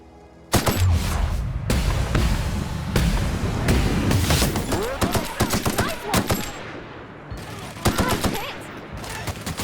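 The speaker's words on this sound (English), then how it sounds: "Giving her that machine gun was really good." Sustained machine gun fire from The Outer Worlds video game, dense rapid bursts of shots layered with louder cracks and booms, continuous and loud for about nine seconds.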